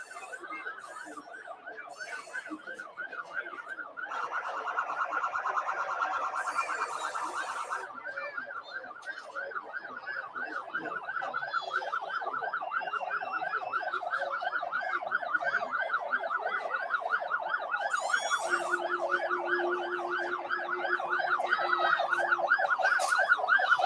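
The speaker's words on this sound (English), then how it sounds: "We're hearing those sirens and seeing those flashing lights." Emergency vehicle sirens wail steadily at a parade, close and loud, in a rapid oscillating yelp with a second siren tone and horn blasts joining in.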